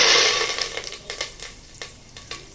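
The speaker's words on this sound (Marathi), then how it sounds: "दाणे आधी थोडेसे परतून घ्यायचे." Peanuts frying in hot oil in a pan with asafoetida and curry leaves for Khandeshi khichdi: a loud initial sizzle fading into a steady crackle, punctuated by sharp stirring scrapes, with no voices.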